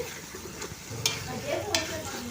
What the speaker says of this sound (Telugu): ఇంకా కలుపుకుంటూనే ఉండాలండి అడుగు అంటకోకుండా ఈ విధంగా కలుపుతూ ఉండాలండి